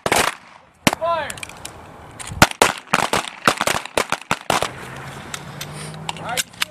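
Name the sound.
P320 M17 handgun gunshots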